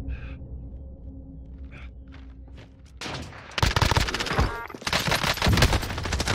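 Loud bursts of sniper rifle fire and chaotic gunfire from a Call of Duty-style shooter match with a Kar98, starting with faint scattered shots, then erupting into dense, close volleys in the second half.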